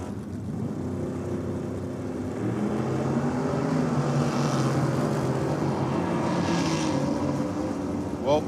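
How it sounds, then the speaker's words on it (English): A T-bucket drag car with a 502 cubic inch big block Chevy roars down the strip at a track championship, a sustained heavy engine drone building in intensity over several seconds, with crowd and track ambience beneath. "Walford-Lay in the T-bucket. 502 cubes of big block Chev,"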